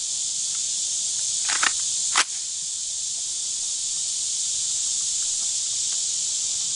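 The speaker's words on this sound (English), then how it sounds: "That shut the cicadas up a bit," Cicadas buzz outdoors in a steady, unbroken high-pitched drone that fills the whole stretch, with a couple of brief faint knocks early on and no talking.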